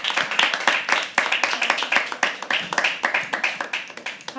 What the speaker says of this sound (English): Keep clapping till she comes on stage.